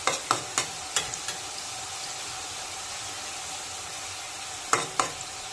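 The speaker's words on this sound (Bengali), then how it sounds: "দেখো কি সুন্দর ভাজা হচ্ছে, একটু একটু ফুলে উঠছে নিমকিগুলো।" Whole-wheat flour nimki fry in hot oil, a steady soft sizzle broken by a few sharp clinks of a spatula stirring in the pan, near and alone, no talk.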